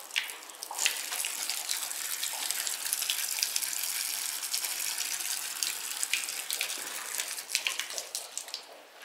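Water rushes steadily through newly soldered pipes, a loud, continuous hiss of flow with a few faint knocks and no talking.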